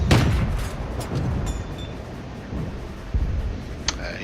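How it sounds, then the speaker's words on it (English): SU-76 self-propelled gun in a video game firing a couple of shots, heavy low booms in a quick run near the start and again later, over a steady rumble of background battle noise. "SU-76, get a couple of shots in."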